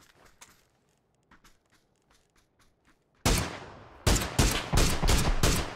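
Loud bursts of gunfire in the battle royale game PUBG, several sharp rapid volleys after quieter scattered shots and footsteps, close and dominant with no talk.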